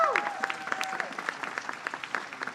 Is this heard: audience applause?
yes